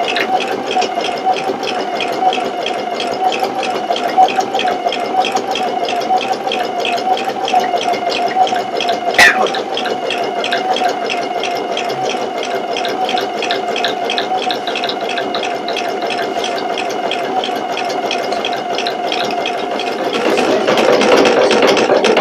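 A Pfaff Creative Icon 2 embroidery machine stitches out a background fill, a steady, close, fast mechanical hum and rattle running unbroken with one brief click partway through.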